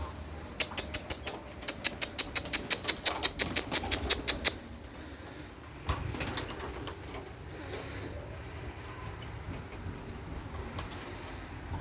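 Pigeons on a balcony give a rapid run of about twenty high, sharp calls over a few seconds, then fall quiet against faint background noise and a single soft thump.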